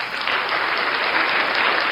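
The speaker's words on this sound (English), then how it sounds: "Enough with the clapping" A crowd of people clapping, a dense, even burst of applause that stays at a steady level from start to finish with no pauses.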